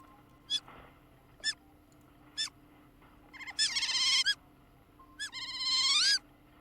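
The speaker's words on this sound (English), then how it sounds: "that's the ad break notification." Stream ad break notification: a series of short rising electronic beeps, then two longer warbling chimes, played clearly over a faint background hum with no talking.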